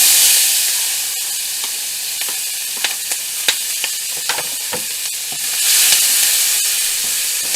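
Diced onion cooking in a flour and oil mixture, a continuous hissing sizzle that swells at the start and end, with scattered scraping taps from stirring.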